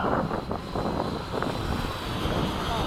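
A Hobby King 90mm MiG-17 Fresco RC jet on its maiden flight roars as a steady ducted-fan whine passes overhead, mixed with wind buffeting on the microphone and no talking.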